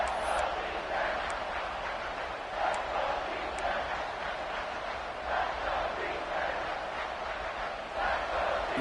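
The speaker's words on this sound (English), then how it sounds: "the crowd really making some noise now, trying to help out this defense to get this stop near the goal line" A large football stadium crowd roars and cheers continuously near the goal line, a broad sustained wash of voices swelling and easing with a few sharp whistles on top, heard from a distance.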